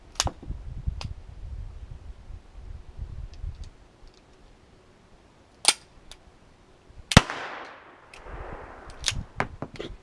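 Sharp 9mm pistol shots crack at irregular intervals, several loud reports separated by quiet gaps, with mechanical clicks and rustling in between.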